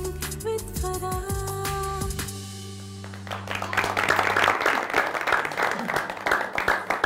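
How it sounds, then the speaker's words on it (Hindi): A TV studio audience and participants in a Pakistani morning show break into applause, loud dense clapping that builds after a short burst of musical jingle and then continues strongly. "तालियां बजाएंगे हमारी ऑडियंस और पार्टिसिपेंट"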